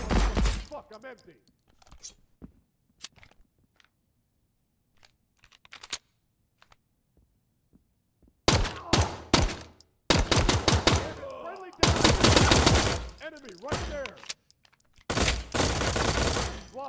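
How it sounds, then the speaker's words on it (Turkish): Bursts of rapid automatic gunfire in the video game Transience, dense crackling volleys stopping and starting in the second half after a quiet stretch with sparse faint sounds. "Ne oluyor be arkamızdan mı atış ediyorlar?"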